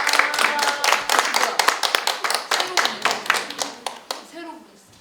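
A forum audience gives loud, dense clapping to welcome a former Hwaseong City policy adviser. Sharp individual claps ring out close by, then thin out and fade near the end.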